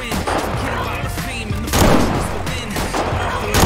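Repeated gunfire from a multiplayer hunting simulator game fills the mix, with loud shots and bursts in a dense, continuous barrage while game sounds layer underneath.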